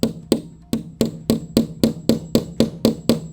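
Twelve sharp hammer taps ring out in a steady rhythm, close and loud, as an anchor bolt is driven through for a cable trellis installation, with no talking over it.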